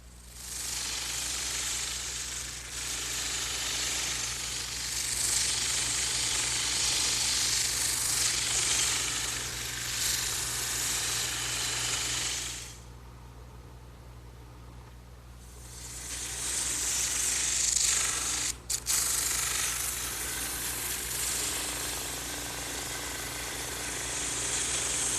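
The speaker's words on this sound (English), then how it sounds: "now I'm ready to smooth out the ends on the drum sander" Drum sander smoothing the ends of wooden Adirondack chair pieces, a loud continuous grinding whir with a steady hum underneath, easing off briefly in the middle before the sanding resumes.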